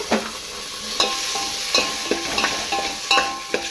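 A spoon stirs chopped tomato into a pan of sizzling fish curry, giving soft scraping strokes and light clinks at a steady pace over a constant close frying hiss.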